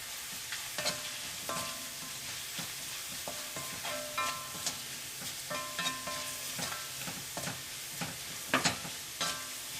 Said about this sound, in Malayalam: അപ്പം മഞ്ഞൾപ്പൊടിയും എണ്ണയിൽ കിടന്ന് നന്നായിട്ടൊന്ന് മുരിഞ്ഞിട്ടുണ്ട്